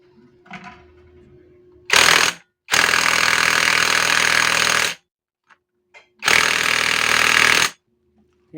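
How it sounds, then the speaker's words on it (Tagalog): Loud bursts from a power tool tightening a castle nut on a motorcycle clutch during a clutch lining replacement, with three sustained runs, the longest about two seconds, separated by short silences and faint clinks. "Siyempre, hihigpitan na po natin ang ating power tools."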